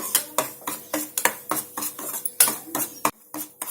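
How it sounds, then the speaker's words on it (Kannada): A spoon scraping and clinking against a pan while chiroti semolina is fried and stirred, a regular rhythm of about three metallic taps per second, close and clear with no talking. "ಎರಡು ಸ್ಪೂನ್ ಚಿರೋಟಿ ರವೆಯನ್ನ ಇದಕ್ಕೆ ಹಾಕೊಂಡು ಫ್ರೈ ಮಾಡ್ಕೊಳ್ಳೋಣ"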